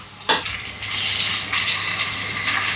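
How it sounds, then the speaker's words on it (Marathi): Chopped onion frying in hot oil for misal pav, a steady loud sizzle with a spoon stirring and scraping the pan, close up, with no voices. "कांदा थोडा गोल्डन ब्राऊन होऊ देऊ दे."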